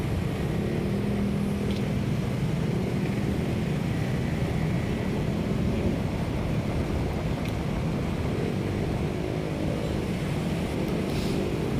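A morning traffic jam on the Pantura road in Indramayu gives a constant broadband rumble of idling and creeping vehicles, with faint horn-like tones drifting in and out, no voices.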